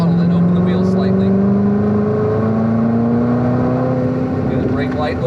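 A Corvette C7 ZR1 on a racetrack, its engine droning loud and close from an in-car position as the pitch climbs steadily under acceleration, with a brief shift partway through, and someone speaking over it.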